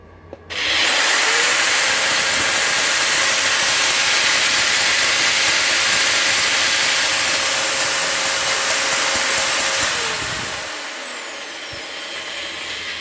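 A Parkside PDRW 1800 A1 twin paddle mixer runs on power setting 2 with a loud, steady, hissing whir for about ten seconds, then spins down to a quieter, lower tone.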